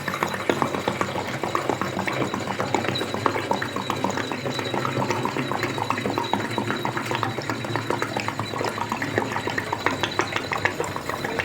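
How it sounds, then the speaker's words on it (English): Diesel fuel glugs and splashes steadily into the tank of an Hcalory Toolbox Max diesel heater indoors in a kitchen, a continuous bubbling pour lasting several seconds with no talk. "let's fill it with diesel and test"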